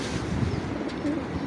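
Pigeons cooing close by, soft low throaty coos repeating in short phrases over a faint background hum.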